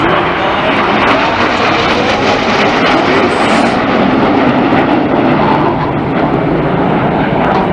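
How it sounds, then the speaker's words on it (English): A lone Red Arrows BAE Hawk jet passes overhead at the 2014 Cleethorpes airshow, a loud, continuous roaring engine rush that fills the whole clip with no talk. "It's a lone jet."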